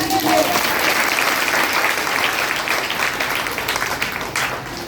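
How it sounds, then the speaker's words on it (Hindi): A church congregation applauds for Jesus Christ, with sustained crowd clapping that starts strong and fades slightly toward the end of the clip. "अच्छे से ताली बजाएंगे यीशु मसीह के लिए।"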